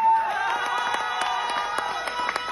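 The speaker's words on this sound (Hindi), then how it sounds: "तो ये बार यार डेकोरेशन टीम ने जोरदार तालियां हो जाए।" Crowd clapping and murmuring steadily at a college freshers' stand-up comedy show, Alfresco 2023, a dense even wash of hand claps with scattered sharper claps throughout.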